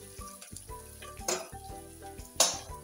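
Onions fry in a pan while being stirred, a soft sizzle running under a few clinks and scrapes of a spoon against the pan, fairly quiet and close with two sharper knocks.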